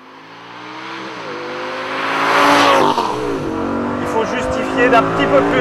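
An Audi R8 GT V10 revs hard on a race track, the engine note climbing steadily and loud as it pulls through the gears, with a voice talking over the roar.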